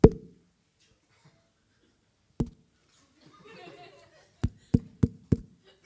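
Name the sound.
creepy knocking on a surface, imitating a monster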